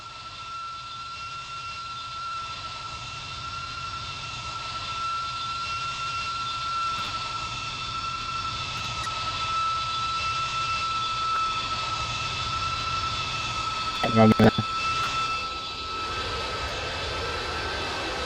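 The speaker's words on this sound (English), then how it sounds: "I'm just going to focus on the 727 real quick as it comes into land." A Boeing 727 jet comes in to land in the Roblox flight game PTFS, a steady, droning jet engine roar holding at moderate level throughout, with a brief burst of clicks near the end and no talking.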